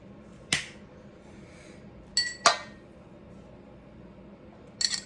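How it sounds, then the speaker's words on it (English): Two eggs are cracked against the side of a bowl, making sharp, close taps: one single knock, then a quick pair, then another tap at the end. Quiet background, no talking. "I have 2 eggs. I'm just gonna crack them right into this bowl."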